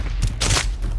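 Gunfire in the video game Call of Duty: Warzone, a loud, dense burst of rapid shots with a strong middle crack, set against constant low rumble.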